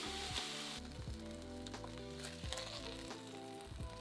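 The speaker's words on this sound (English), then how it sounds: "We're starting the frying process in the frying pan" Steady frying sizzle from beef in a hot frying pan, a continuous crackling hiss with occasional clinks and stirring sounds throughout.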